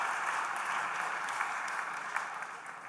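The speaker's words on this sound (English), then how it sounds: "Can everyone please give those people a round of applause?" Conference audience giving a round of applause, a dense continuous patter of many hands clapping at moderate level that eases off slightly near the close.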